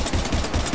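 Rapid automatic gunfire aimed at Husks in the sci-fi shooter game Mass Effect 3, a quick steady stream of close, punchy shots spaced evenly across a brief burst with no talking.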